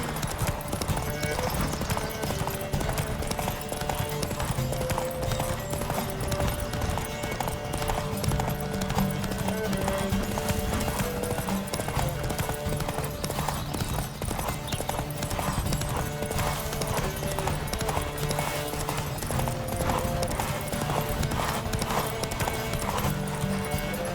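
Rapid galloping hoofbeats pound continuously with a steady rhythm, joined by occasional horse snorts, set against a busy background in the video game The Witcher 3: Wild Hunt.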